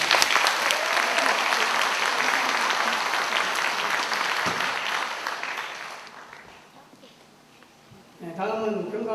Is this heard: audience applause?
yes